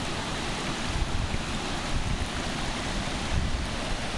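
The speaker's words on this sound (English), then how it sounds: "This is a tributary running off the Ozarks." Clean, clear water of a tributary running off the Ozarks rushes steadily in a continuous close wash, with some wind buffeting the microphone and no voices.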